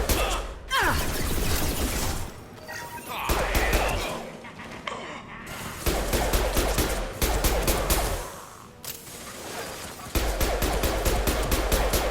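A concussive shot fires in Mass Effect 2 amid heavy combat, with rapid bursts of weapon fire in repeated volleys broken by short lulls, loud and close.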